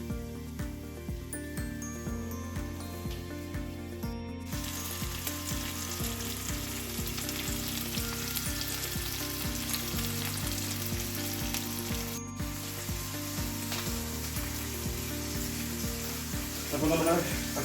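Tomatoes cook in a covered pan in a Kerala home kitchen, giving a steady, unbroken sizzle that runs the whole time at an even level, with a low tonal hum beneath it and a brief rise near the end.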